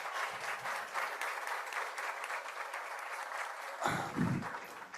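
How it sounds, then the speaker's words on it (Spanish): Steady applause from an audience at a presentation event, dense continuous clapping sustained for several seconds, with a brief low murmur near the end. "al que sí les pediría un aplauso"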